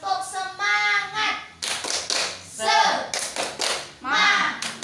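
Classroom of primary schoolchildren chanting and clapping together in a rhythmic cheer, short bursts of claps alternating with shouted group voices, close and lively.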